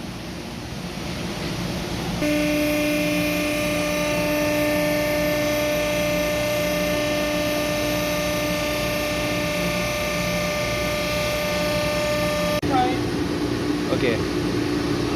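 A jumbo coiler machine arm rises with a steady mechanical whine and hum from roughly 2 to 12.5 seconds, loud and close, over a constant background drone.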